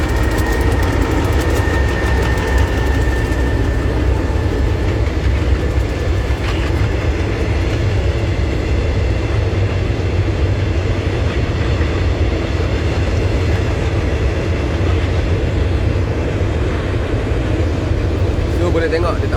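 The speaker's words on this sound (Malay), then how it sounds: "Kita berhenti sekejap kerana kereta api lalu di seberang sana." A train crosses beyond the road on a morning drive, heard from inside a stopped vehicle as a loud, continuous rumble with rolling wheel clatter and a faint high squeal throughout.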